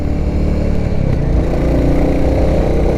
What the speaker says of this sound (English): A decent thumper sound.